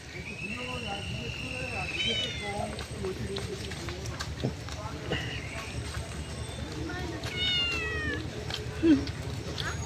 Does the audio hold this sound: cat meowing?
yes